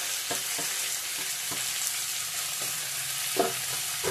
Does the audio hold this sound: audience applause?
no